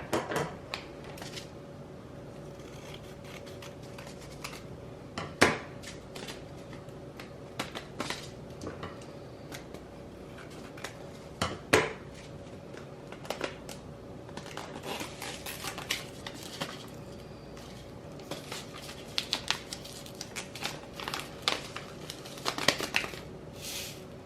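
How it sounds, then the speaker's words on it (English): Seeds and vermiculite scattered by hand onto soil for winter sowing, giving faint, sparse ticks and light patters over a quiet background, spread unevenly across the stretch. "So what I'm going to do is I'm going to sprinkle the seeds on."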